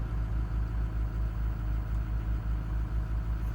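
A John Deere 2210 sub-compact tractor runs steadily while pushing snow away from a garage door, its engine a continuous low, rumbling drone with a faint rhythmic pulse, heard close and alone with no talking.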